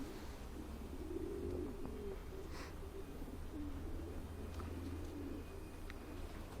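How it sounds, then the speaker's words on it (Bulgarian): Racing pigeons in a loft in January, before the training season, giving low, steady cooing throughout with a faint chirp or two on top, close and continuous. "как летят гълъбите в момента"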